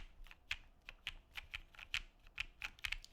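Quick, steady keystrokes on a prototype mechanical keyboard with PBT keycaps and a carbon fiber plate, close and fairly soft, typed at an even pace with no talking.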